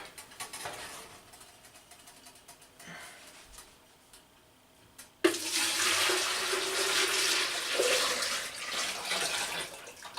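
Homemade wine mixture, mostly sugar, pours into a gallon jug. After quiet handling noises it turns abruptly into a steady, gurgling rush of liquid that lasts about five seconds.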